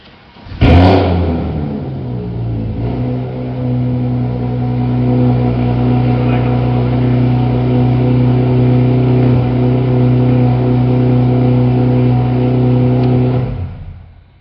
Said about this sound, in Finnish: Kaikkihan kiinnostaa kuulla, miltä Porsche kuulostaa.